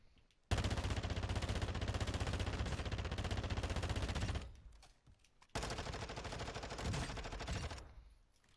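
Sustained bursts of submachine gun fire in a first-person shooter video game, a long dense stream of rapid shots, a brief pause, then a second long burst, loud and close with no talking.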